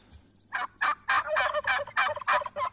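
A white turkey gobbles loudly in a rapid run of about eight throaty bursts, close by, over a faint low hum.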